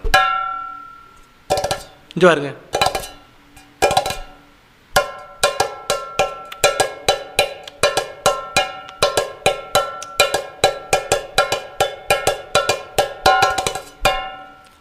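An electronic keyboard plays a bright, percussive pattern that settles into a steady, quick beat, with a voice speaking briefly near the start.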